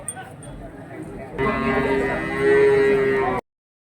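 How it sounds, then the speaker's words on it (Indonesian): Belgian cattle at a livestock market in Glenmore, Banyuwangi, East Java, one long loud nearby moo rising and holding before cutting off, after quieter market background with someone talking. "Termasuk ini bukan sapi Eva, tapi sapi Belgian."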